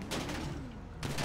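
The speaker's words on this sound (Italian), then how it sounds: "io gli sparo direttamente in faccia per quanto possibile" Sustained gunfire in GTA V Online, a dense rattling burst of shots that carries on for about a second, pauses slightly, then resumes loudly at the end.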